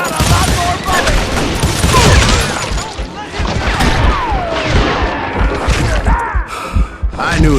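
Heavy gunfire from the Western shooter game Call of Juarez: Gunslinger, dense overlapping shots and crashes filling the whole stretch, loud and close with barely a break.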